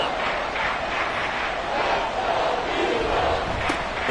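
A football stadium crowd roars in a steady, loud wall of cheering and shouting that holds without a break, a dense mass of voices with no single call standing out.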